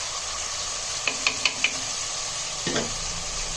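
Yogurt added to frying onion masala with ginger-garlic paste, giving a soft, steady sizzle. A quick series of four light taps from a spoon against the pan is followed by a stirring scrape, all close and without talking.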